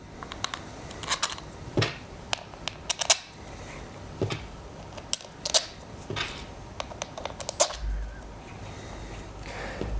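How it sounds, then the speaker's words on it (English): Small screws going back into an ONSRA electric skateboard wheel, heard as scattered light metallic clicks and ticks, close and fairly quiet, irregularly spaced, with a soft low rumble of handling near the end. "Now what I'm doing is I'm putting all 5 screws back in."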